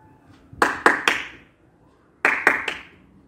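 Two quick sets of three sharp hand claps close by between ball throws in a basketball drill, separated by a short pause.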